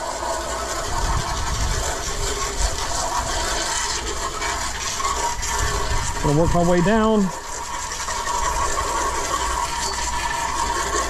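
A garden hose jet spraying water onto teak wood, a steady hissing wash of water running throughout while someone talks over it, with a brief wavering mechanical whine partway through.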